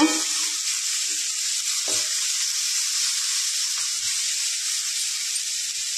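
Salted vegetables frying in a pan give a loud, continuous hissing sizzle, with a few soft stirring knocks early on and no talking.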